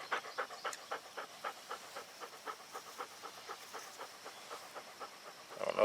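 Quick rhythmic panting from a dog nearby, even huffs repeating at a brisk pace throughout, fairly soft, with a faint steady background hiss.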